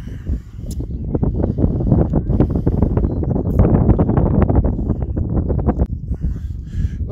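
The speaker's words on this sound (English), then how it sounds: "The wind's getting up." Strong wind buffets the microphone on a walk across the open fens, a loud, continuous rumbling roar that swells and gusts for several seconds before easing slightly at the end.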